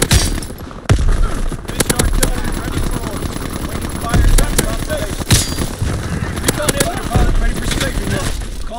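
A fighter strafing run in a war video game brings rapid bursts of automatic gunfire and sharp impacts, loud and near, over continuous battle noise with radio-style announcements.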